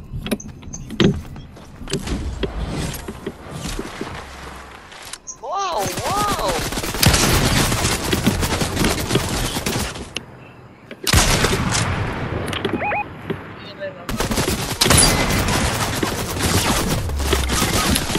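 Rapid bursts of gunfire from a Fortnite match crack out in clustered volleys, broken by short silent gaps and interface sounds, with quieter stretches of footsteps and movement between loud exchanges.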